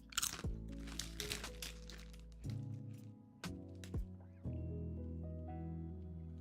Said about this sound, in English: when I chew chips